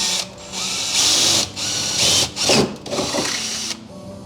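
A power drill bores through the metal body of a BMW E46 drift car, whining in several close, loud bursts with brief pauses and shifts in pitch between them.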